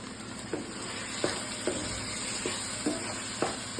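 Mutton liver frying in oil with a spoon each of chili powder, cumin powder, coriander powder and salt, a steady close sizzle punctuated by periodic stirring scrapes roughly every half second.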